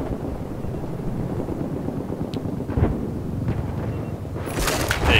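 Helicopter in a Battlefield-style multiplayer video game, a continuous loud rotor rumble and wash filling the background, with a few distant bangs and a sharp burst near the end.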